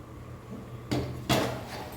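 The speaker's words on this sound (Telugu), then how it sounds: "ఇదేండి, మూత పెట్టి మగ్గనిద్దాం" A metal lid is set onto a cooking pot of prawns and gongura leaves, giving two close clattering knocks after a quiet stretch, with a faint knock at the end.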